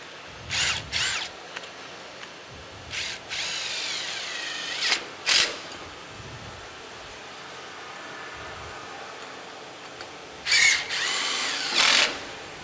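A power tool snugs down clamps on a waterjet cutting table, firing in several short, loud whirring bursts separated by quiet pauses.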